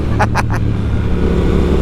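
A Triumph Speed Twin 1200cc motorcycle rides in second gear at about 30 mph in road mode, its low engine drone steady and loud with wind noise, and a few brief clicks or taps near the start.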